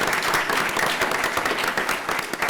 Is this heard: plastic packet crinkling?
no